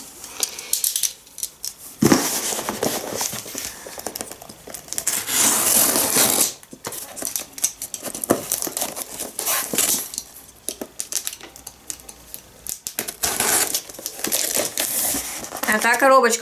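A small knife cuts open a taped cardboard box, giving bursts of scraping, tearing and rustling that come and go, loud and close, with some handling noise and a person speaking at times.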